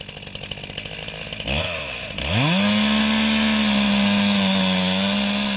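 A chainsaw putters unevenly at idle, then revs sharply and settles into a loud, sustained high-pitched whine, heard close with no voices.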